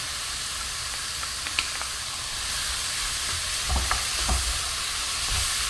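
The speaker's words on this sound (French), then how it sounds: "Je vais maintenant ajouter les échalotes." Shallots tossed into mushrooms already frying in a pan, the water mostly cooked off. A continuous loud sizzle carries a few soft clinks and spoon scrapes, swelling slightly after the addition.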